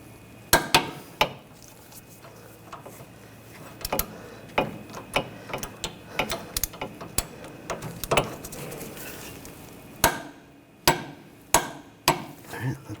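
Torque wrench tightening the nut on a front sway bar link of a 2014-2020 Nissan Rogue, heard as a string of sharp metallic clicks and knocks, some in quick pairs and some spaced out, close by with no talking.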